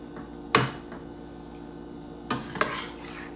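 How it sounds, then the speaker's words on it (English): Stew in a pot being stirred as kale is folded back in, with a sharp clatter of utensil against the pot near the start and a few more scraping knocks toward the end, against a quiet room. "we're going to stir this around and really incorporate that kale back in there one more again"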